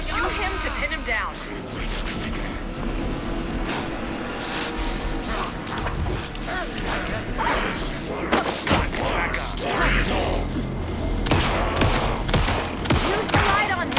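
Rapid bursts of gunfire in the survival horror game Alan Wake 2, sharp repeated shots clustering toward the end over a tense game soundtrack, with voices talking underneath.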